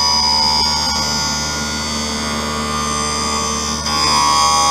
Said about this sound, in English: the second sound you hear is your lens as it starts to begin cutting against the cutting wheel.